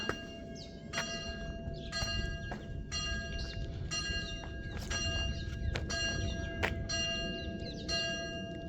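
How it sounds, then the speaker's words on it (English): Church bells in Capernaum ring out at noon repeatedly at a steady pace, clear metallic strikes with lingering tones over a low outdoor background hum. "can you hear the bells? 12 o'clock."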